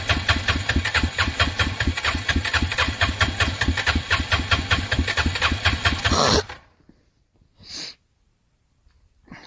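Arctic Cat 366 snowmobile engine, hot and hard to start with a suspected sticking carburetor needle, revving steadily and loudly with throttle for about six seconds before cutting off, followed by a couple of faint knocks in the quiet.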